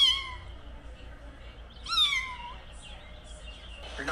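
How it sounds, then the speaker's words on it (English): Kitten meowing, one short cry at the start and a louder drawn-out meow in the middle, close, with faint noise between and a brief sound at the end. "Oh, the mama cat really came back because her baby was meowing?"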